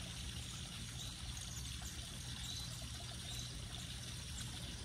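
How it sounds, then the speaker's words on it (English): A natural spring on a hike, its water trickling and pouring in a continuous gentle babble, close and unbroken, with no talk. "here you can hear the sound of my parents' spring"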